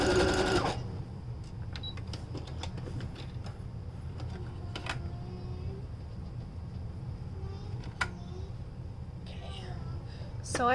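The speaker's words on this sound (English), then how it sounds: "then pull the end and stretch as I sew" Sewing machine stitching a stretched fabric beard sock, a steady low mechanical whir with faint ticking that runs throughout, beginning with a brief louder moment.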